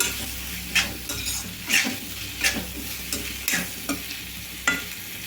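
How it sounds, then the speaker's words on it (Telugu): Eggplant pieces with a pinch of turmeric sauté in hot oil, a gentle sizzle under repeated close scrapes of a spoon stirring the pan, with occasional light metallic clinks and no voices. "వంకాయ ముక్కల్ని ఆయిల్లో బాగా ఒక రెండు నిమిషాలు ఒక నిమిషం పాటు అయితే మగ్గించుకోవాలండి"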